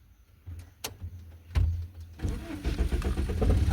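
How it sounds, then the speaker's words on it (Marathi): A manual-gear car, started with the clutch pressed during a driving lesson, gives a few mechanical clicks and a short crank before the engine catches and settles into a rough, rising idle close by. "आता क्लच दाबायचा आणि गाडी चालू करायची"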